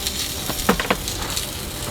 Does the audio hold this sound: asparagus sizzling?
yes